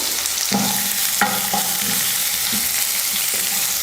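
Two finely chopped large onions sautéed with chana dal in a pan, a continuous close sizzle with several soft scraping stirs spaced through it.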